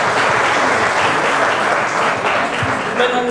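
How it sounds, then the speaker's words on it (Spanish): Steady applause from an audience honoring a dance teacher at a Colombian cultural event, a dense continuous clapping that fills the whole stretch with a faint voice underneath. "Un aplauso para la maestra."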